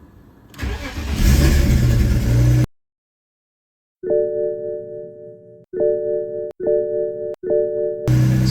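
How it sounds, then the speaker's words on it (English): A BMW E46 with an illuminated EML warning light cranks and fires up, a close, loud engine burst, then after a pause several short starter-and-idle bursts in sequence with brief gaps between them. "Let's start the car."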